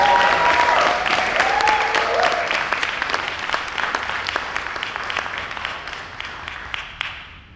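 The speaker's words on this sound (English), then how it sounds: "So please give him a warm applause." An audience at a poetry night applauds warmly with dense, steady clapping that gradually thins and fades over several seconds.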